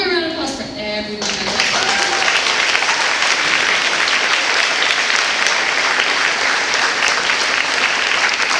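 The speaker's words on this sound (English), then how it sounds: "one more round of applause for everyone." An audience at a school spring concert breaks into loud, sustained applause that fills the room after a brief spoken announcement, with the clapping continuing steadily to the end.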